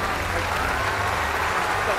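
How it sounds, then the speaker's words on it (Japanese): Applause from the crowd at an executive amateur fight event, a steady dense wash of clapping over two seconds with talk mixed underneath. "大きな拍手お願いします。"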